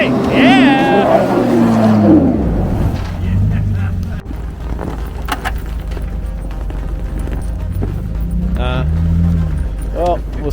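A small 8-horsepower engine revs hard out in the snow, its pitch rising and falling in strained bursts, with wind buffeting and voices shouting over the loud, close drone.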